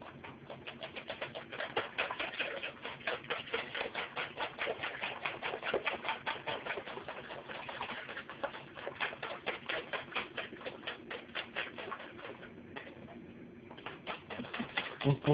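Crêpe batter dripping and running off a ladle back into the bowl, a quiet, rapid patter of soft wet ticks that goes on for several seconds and thins out near the end.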